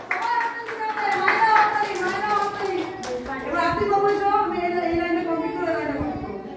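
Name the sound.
children clapping hands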